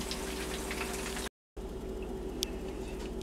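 Onion rings fry in hot oil with a steady, soft bubbling sizzle throughout, faint and continuous, broken by one short gap.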